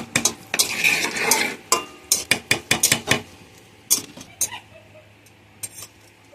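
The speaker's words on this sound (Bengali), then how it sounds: "গরম হয়ে গেছে, এখন দেবো তেজপাতা, শুকনো লঙ্কা, হালকা ভাজা ভাজা করে নেব।" Bay leaves and dried red chillies go into hot oil for khichuri, with a light sizzle beneath quick scraping and clinking of a spoon against the pan.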